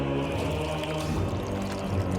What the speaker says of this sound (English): she's pouring the acid on him